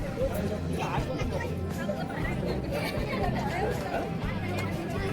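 Dense crowd chatter at a packed Mahabaleshwar viewpoint checkpoint on a busy day, a steady babble of many overlapping voices surrounding the listener throughout.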